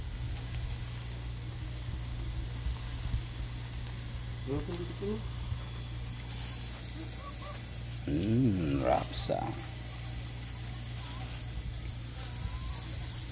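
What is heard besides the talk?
food boiling and sizzling while cooking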